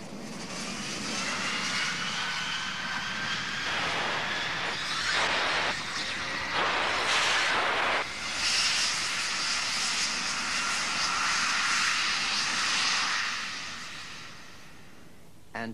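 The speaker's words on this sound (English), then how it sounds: "this aircraft is being prepared for the flutter test" A new-design aircraft with its engine running during flight testing, a loud, steady roar with a rising and falling whine throughout, easing off near the end, with no voices.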